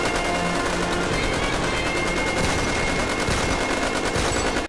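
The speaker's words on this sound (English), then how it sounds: "that's a thing about shooting in the air" Gunshots fired into the air in a movie ring out as sustained rapid gunfire, a steady loud volley of cracking shots lasting several seconds before cutting off abruptly.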